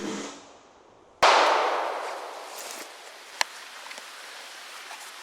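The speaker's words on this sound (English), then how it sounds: "Now we're going to the H&K 40 Smith & Wesson, 165 grain full metal jacket rounds" A single loud shot from an H&K .40 S&W handgun firing a 165-grain full metal jacket round at light steel outdoors, its long echo fading, then a faint metallic tick.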